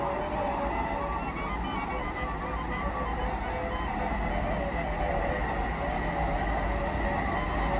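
Steady, loud rumble and rail roar of a Warsaw metro train with open-through carriages running underground in a tunnel, a continuous broadband drone lasting throughout with no talk.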